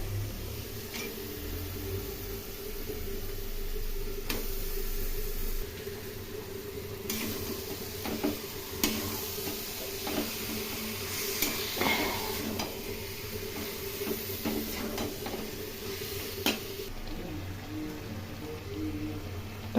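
Raw chicken pieces go into a hot pan for a Bengali chicken curry, giving a steady low sizzle with scattered clinks and scrapes of utensils against the pot over a long stretch, fairly quiet and without talk.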